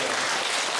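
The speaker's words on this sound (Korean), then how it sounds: "다시 한번 박수 한번 쳐주시기 바랍니다" An audience at a church revival gathering breaks into a brief, full burst of close, dense applause.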